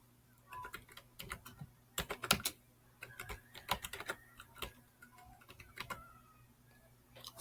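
Fingers typing on a computer keyboard, a quick run of uneven key clicks and taps at close range, pausing and resuming, with no voices.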